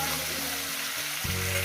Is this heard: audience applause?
no